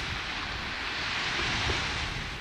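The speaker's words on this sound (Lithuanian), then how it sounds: "Jūra šiandieną gan rami." Calm sea with light wind on a Lithuanian coast, a steady, even wash of gentle surf and soft breeze rumble holding a constant low level throughout, with no voices.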